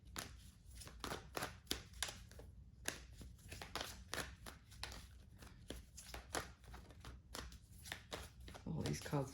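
A deck of tarot cards is shuffled close by, giving a quick run of crisp riffling snaps and slaps that repeat in a steady rhythm throughout, quiet but distinct.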